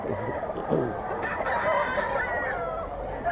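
A rooster crows close by at a breeder farm in Pampanga, a long drawn-out cock-a-doodle-doo rising and trailing off, with other fowl clucking faintly around it.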